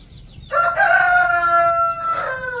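A rooster crows once, loud and close, its long drawn-out call rising and then trailing off at the end.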